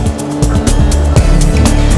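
Rally cars at the 2010 Dakar rally thrash past one after another, loud engine roars and tyre noise in a continuous rushing blur with sharp passing swells.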